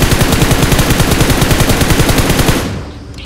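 Loud, rapid automatic gunfire in the battle royale game BGMI, a steady burst of evenly spaced shots that fades out at the end.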